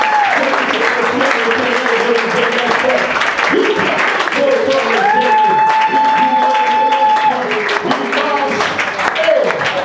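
A church congregation claps and cheers loudly in praise of God, with voices shouting and calling out over the sustained applause.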